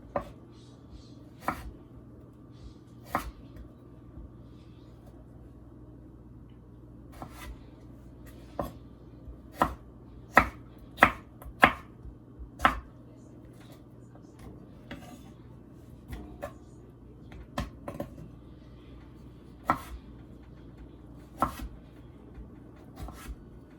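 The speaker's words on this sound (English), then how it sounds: "I cut all my potatoes" A knife chops potatoes on a cutting board in irregular bursts of sharp, close taps, some quick clusters and some isolated strikes, over a low steady room hum.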